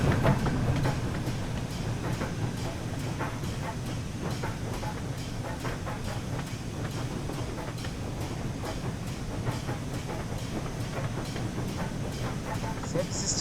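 The steam locomotive Jubilee on the West Somerset Railway, heard as a steady, dense rail rumble with a regular clickety-clack pulse running the whole time, moderately close, with a voice briefly at the start.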